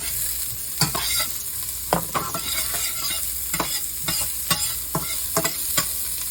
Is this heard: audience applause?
no